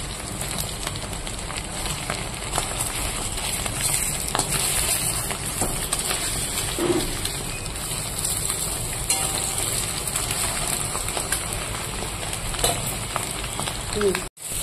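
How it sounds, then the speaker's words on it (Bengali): Chopped onions fry in hot oil in a pan on a home kitchen stove, a steady, even sizzle and crackle that runs unbroken and fairly soft for about fifteen seconds, with no voices over it. "পেঁয়াজটাকে ভেজে নেব"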